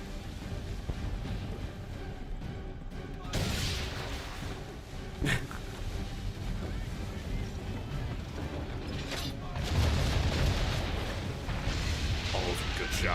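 Naval cannon fire in the Assassin's Creed 3 video game: several heavy booming blasts, with a sharp crack near four seconds and a loud rolling volley near ten, over steady ship and sea noise, with a voice talking faintly underneath.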